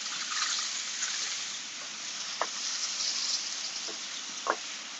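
Onions sautéing in a pan, a steady, even sizzle with a few small pops and crackles, close and moderately loud, no voices over it.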